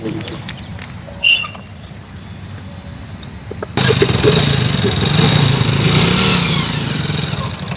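Quiet background hum, then partway through a motorcycle engine abruptly starts and keeps running with a steady rough rumble.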